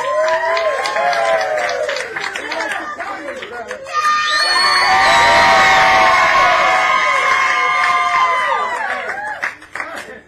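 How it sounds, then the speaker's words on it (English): Live comedy show audience at an improv festival in Chicago breaking into applause and cheering, starting with scattered voices and swelling into loud, sustained clapping and whoops that fade out near the end. "Give him a round of applause."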